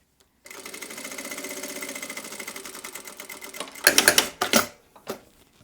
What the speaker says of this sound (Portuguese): vou passar uma costura aqui, ó, só pra ele não escapar